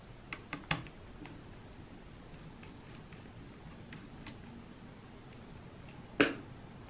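Faint small clicks and ticks from working the battery screw loose on an Acer Aspire One Cloudbook laptop, a few quick taps early on, then a sharper click near the end against a quiet background.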